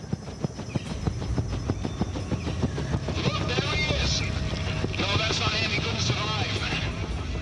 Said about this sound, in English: This helicopter all of a sudden pulls up.